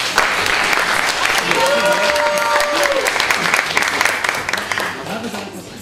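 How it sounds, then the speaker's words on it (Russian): A crowd at a festival opening applauds loudly and steadily, with a voice speaking briefly in Russian under the clapping before it begins to fade. "Аплодисменты Лилии"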